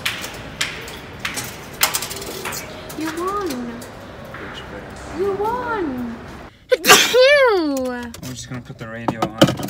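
Voices talk back and forth, then one sharp, loud sneeze bursts out near the end, followed by more speech.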